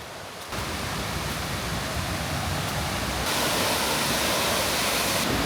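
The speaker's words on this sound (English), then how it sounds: "that's a lovely waterfall there. A lovely waterfall in this woodland" A waterfall in English woodland gives a steady, broadband rushing roar, close and constant, swelling slightly louder partway through, with no voices.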